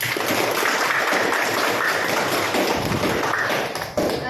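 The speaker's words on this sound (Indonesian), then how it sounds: "Silakan kalian memberikan tepuk tangan untuk semua kelompok." Students in a classroom clap together for all the groups, a dense, loud, continuous patter of hands that holds steady and dips briefly near the end.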